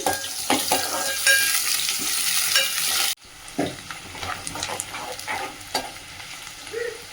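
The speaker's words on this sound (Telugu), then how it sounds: "మిర్చి ఆనియన్స్ రెండు యాడ్ చేసేసుకొని ఇంకా లైట్గా వాటిని అయితే ఇంకా ఫ్రై చేసుకుందాం." Onions and green chillies fry in hot oil for mutton curry, giving a loud, continuous sizzle with stirring scrapes, a brief break, then quieter crackling and spoon movement.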